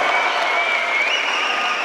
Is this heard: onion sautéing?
no